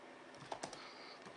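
Quiet typing on a computer keyboard with a faulty Ü key, a few soft clicks and one or two sharper taps heard close by over faint room noise.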